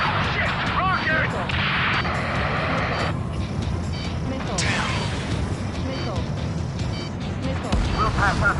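Rocket explosion in the Ace Combat 7 video game, a sharp blast buried in a thick, continuous roar of jet engines and combat noise that stays loud throughout.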